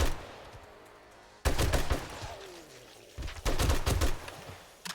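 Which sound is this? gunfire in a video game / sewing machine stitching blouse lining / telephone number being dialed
gunfire in a video game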